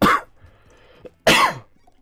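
Two harsh, close coughs roughly a second apart from a person with a worsening cough, each a short loud burst, with quiet room noise between them.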